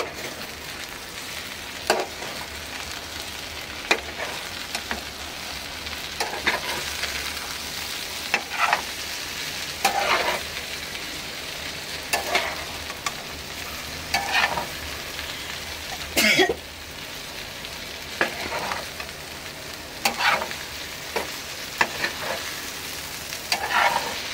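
Spiced okra and potato fry being stirred in a hot pan, a steady sizzle broken by repeated scraping strokes of a spatula, close and regular, with a brief cough-like sound partway through.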